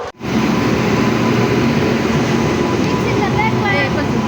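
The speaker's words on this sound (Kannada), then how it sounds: "ಟ್ರೈನ್ ಬಂತಂತ ಟ್ರೈನ್ ಹತ್ತಿ ವಿಡಿಯೋ ಮಾಡ್ತಿದ್ದೆ." Loud, steady rumble of the Kolhapur–Tirupati Haripriya Express rolling into a station platform, continuous and close, with faint metallic squeals toward the end.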